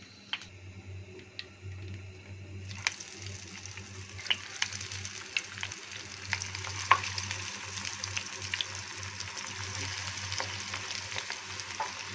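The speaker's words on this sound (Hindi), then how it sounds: "अब हम इसे करते हैं फ्राई।" Semolina french fries deep-frying in hot oil, a steady bubbling sizzle that swells louder after the first few seconds and keeps a dense crackle with occasional pops throughout, nearby and without talk.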